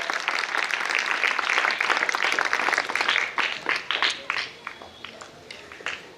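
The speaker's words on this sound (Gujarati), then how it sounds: "જોરદાર તાળીઓ આપણે એમના માટે।" Village residents and elders at a welcoming gathering give dense, enthusiastic applause that fades into scattered, dwindling claps.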